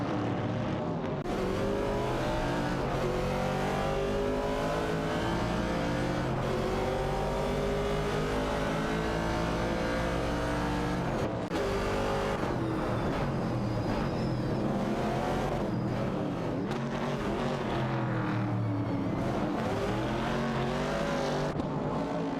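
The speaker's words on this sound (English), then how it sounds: "Super Lacroix is driving a Dodge Challenger while ST4NBZH is behind the wheel of a Pontiac Firebird 70." AI-driven race cars in a racing video game, including a Dodge Challenger and a 1970 Pontiac Firebird, roaring continuously with engines revving and shifting up and down as they battle close together, loud throughout.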